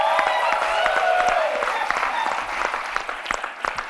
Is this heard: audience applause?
yes